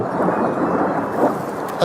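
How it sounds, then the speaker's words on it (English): A deep, rumbling boom rolls through the sky above Jerusalem, broad and heavy, filling the whole short stretch without a clear break. "Very large boom we've just heard in the skies above us, above Jerusalem."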